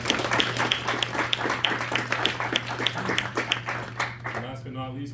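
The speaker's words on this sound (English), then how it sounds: "Let's give Austin a huge round of applause." A small audience at a school district board meeting claps for an honored student. The claps are distinct and scattered, thinning toward the end, over a steady low electrical hum.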